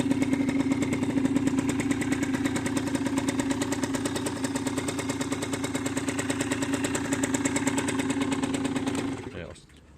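A 2016 Derbi Senda X-Treme DRD SM 50 motorcycle running from cold, its small engine buzzing in a fast, steady pulsing idle close by before cutting out near the end.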